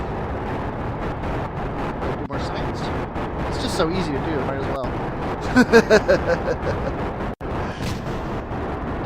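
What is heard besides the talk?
explosions in a video game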